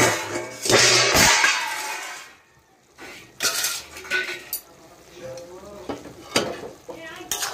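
Bitter gourd curry stirred in a pan, loud close clatter and scraping of a utensil against the metal in uneven bursts over a light sizzle, with pauses between strokes.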